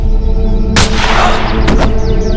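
A loud, sharp gunshot cracks over a dense background of music, with a second burst following shortly after.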